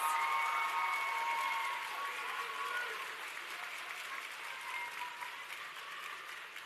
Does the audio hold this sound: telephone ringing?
no